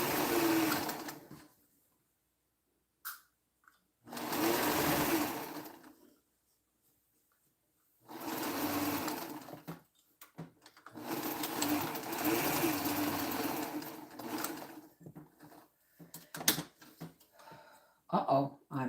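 Quilting at a home sewing machine: bursts of motorized stitching run for several seconds at a time, separated by quiet pauses and brief handling clicks, fairly close and steady.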